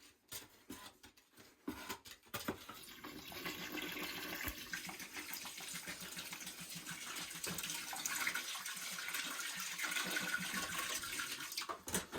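Water is poured into a plaster mix for wall rendering, a steady rushing splash that starts after a few scattered knocks and continues throughout at a moderate level.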